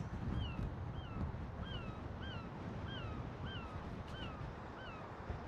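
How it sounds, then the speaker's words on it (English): A steady low roar of surf breaks on rocks at Downpatrick Head, Ireland, with wind buffeting and a repeated two-note bird call above it. "The waves crashing against the rocks."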